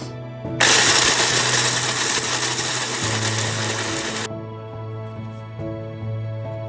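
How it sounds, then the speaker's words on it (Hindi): An electric kitchen mixer grinds nuts coarsely. It is loud and steady for about four seconds, then drops to a lower motor hum. "ये नट्स हैं जिनको आपने दरदरा सा जो है वो पीस लेना है मिक्सर में डालकर"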